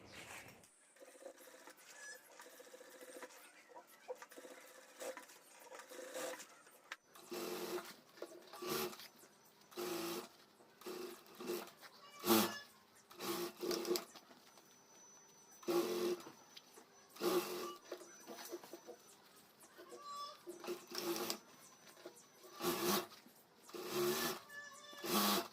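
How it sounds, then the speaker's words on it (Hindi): A sewing machine stitches a zipper strip onto a homemade school bag, running in short repeated bursts of rapid mechanical whirring and clatter with pauses between runs, close and moderately loud. "तो यहाँ से मैं सिलाई शुरू कर देता हूँ।"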